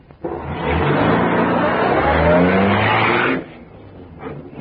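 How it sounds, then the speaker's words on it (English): A car sound effect for an old-time radio drama: the engine swells in as the car approaches, roars loudly and close as it speeds off fast with some tyre noise, then cuts away abruptly to near quiet. "There's a car coming."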